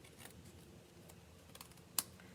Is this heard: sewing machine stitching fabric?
no